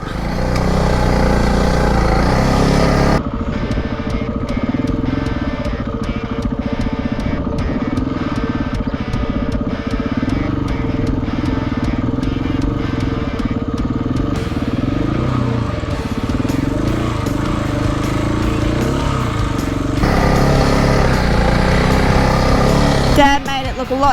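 Motorbike ploughing through thick sand on Rainbow Beach, its loud engine droning and rising and falling in pitch as the rider works the throttle, up close throughout.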